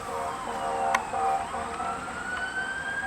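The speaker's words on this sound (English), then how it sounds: "it just happens to be fire engines coming just as I'm doing this" Fire engine sirens wail in the distance outside during an incident command training session, a steady rising and falling tone held through the whole stretch with faint traffic underneath.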